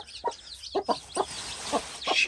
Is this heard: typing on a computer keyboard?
no